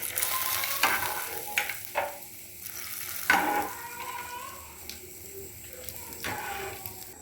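Coconut pieces frying in hot ghee, a steady crackling sizzle with occasional sharper pops and clinks of a spoon stirring.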